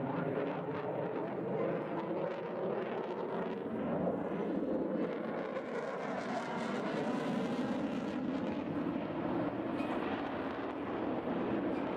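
A military aircraft flies past at an aviation display, a steady broad roar of jet engine noise that swells and holds throughout with wind buffeting the microphone.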